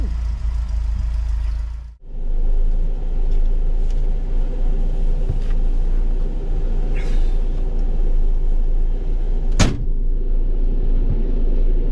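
An Austin Allegro 1300 Super engine runs steadily after a brief cut, a close, even low rumble with a few faint clicks and one sharp knock, no one talking.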